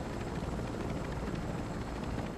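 Helicopter in Call of Duty, a steady close rotor drone with continuous thudding blade chop that holds at even loudness throughout, with no voices.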